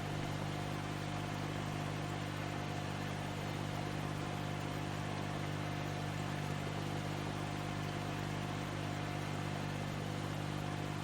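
John Deere 1025R compact tractor engine in Farming Simulator 19, a constant loud droning hum with a steady tonal whine that stays level and unbroken, with no talk.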